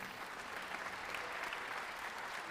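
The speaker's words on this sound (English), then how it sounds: "Yes, that's worth clapping for." A concert crowd at a United States Air Force jazz ensemble performance gives faint, distant applause, a soft and even patter of many hands sustained throughout.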